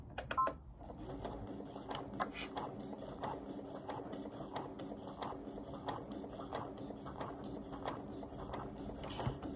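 A sewing machine stitches a straight line across Tilda quilt fabric toward a corner, producing a steady, rapid run of mechanical ticking pulses at close range over a faint background hum.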